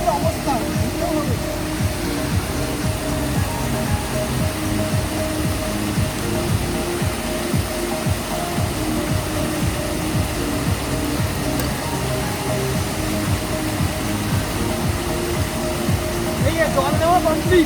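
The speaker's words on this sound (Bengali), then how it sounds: "ঝর্ণা দেখতে পাচ্ছি এত সুন্দর।" A mountain waterfall in Sikkim, on the route from Zero Point to Lachung, roars as a steady, loud wash of falling water that fills the whole stretch, with a person speaking over it.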